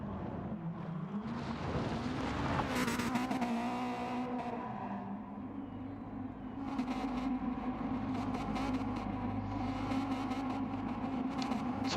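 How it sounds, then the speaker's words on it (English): A radio-controlled race car spins donuts on a dirt track in Colorado Springs, its small motor whining steadily with rising revs and scattered bursts of spraying dirt, heard from a moderate distance. "Manny just doing donuts."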